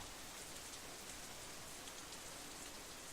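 Steady rain ambience from the visual novel Katawa Shoujo, a soft continuous hiss of rainfall on surfaces with no breaks or thunder, even and moderately quiet throughout.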